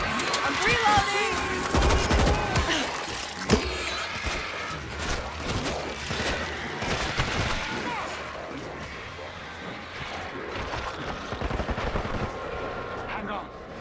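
Rapid video game gunfire, bursts of automatic shots and single cracks, runs steadily through the scene with a few louder impacts, mixed with voices calling out over the shooting.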